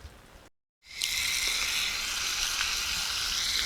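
Butter sizzles in a skillet outdoors, a steady close hiss that starts after a brief silence and holds evenly.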